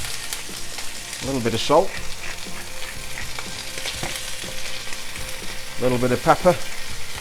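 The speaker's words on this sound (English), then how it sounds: "if your pan doesn't make that noise, it's not hot enough" Chicken fries in a hot pan of butter and vegetable oil, giving a steady close sizzle and crackle throughout, with a person talking briefly over it.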